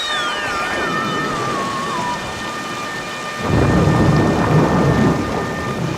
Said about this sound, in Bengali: দেখলে তো কি জোরে বাজ পড়লো সঙ্গে সঙ্গে